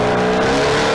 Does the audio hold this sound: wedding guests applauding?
no